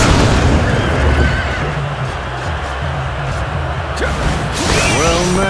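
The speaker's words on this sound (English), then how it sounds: "The neighing of Western Liang steeds is music to my ears." Horses whinny and neigh loudly in a Dynasty Warriors Origins battle, with a drawn-out whinny near the end over a dense backdrop of clashing, booming battle noise and rumble.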